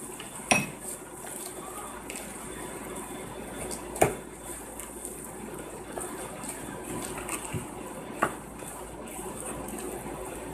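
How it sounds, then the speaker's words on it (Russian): A utensil stirs grated cheese into a hot mashed potato mixture in a bowl for a meat and vegetable casserole, with steady scraping and sharp clinks about every four seconds. "Опять хорошо перемешиваем."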